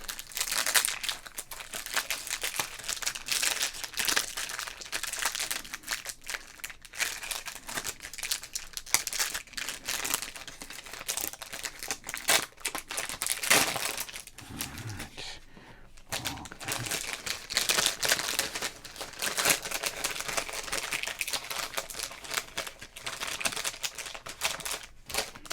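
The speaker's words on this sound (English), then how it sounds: "I think we need some more crinkles." Crinkly plastic wrapper of a 1986 Donruss All-Star card pack being opened up close, dense rustling and crackling bursts continuing steadily with short pauses, no talking.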